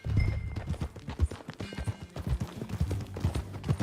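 Horse hooves clip-clopping in Red Dead Redemption 2, a steady rhythmic trot of hoofbeats on the ground, close and clear, with faint tack and movement sounds around them.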